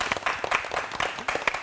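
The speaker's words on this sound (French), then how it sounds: "je pense que ça peut s'applaudir" A small audience at a reunion show gives brief applause: a short burst of fairly close, distinct hand claps, a handful of hands clapping unevenly.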